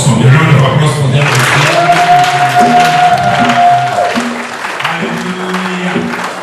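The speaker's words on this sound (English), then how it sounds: "A round of applause for them." An audience at an RCCG church convention applauds after a musical performance, with a burst of clapping and cheering at the start that fades under organ-like tones and background voices.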